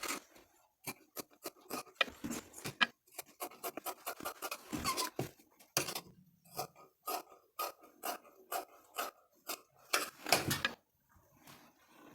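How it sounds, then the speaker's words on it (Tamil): Scissors cut through blouse fabric in a series of distinct close snips, irregular bursts of crisp cutting strokes separated by brief pauses, fairly quiet with no voices. "இப்போ நம்ம கட் பண்ணிடலாம்"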